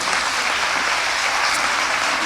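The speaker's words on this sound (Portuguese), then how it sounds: "Aplauda Jesus, porque Ele te ama demais." Church congregation applauding during a sermon, a dense, steady wash of clapping that holds at full strength for the whole stretch, with no voices on top.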